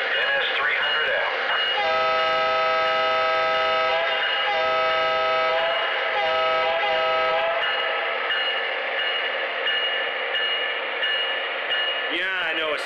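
A model Santa Fe Dash 9 locomotive pulls out with a steady, loud electronic drone of layered tones that holds unbroken throughout, shifting slightly in pitch near the start and again at the end.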